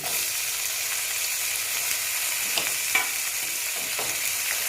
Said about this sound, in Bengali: এটা আমি এখন একটু ভালো মতন ভেজে নেব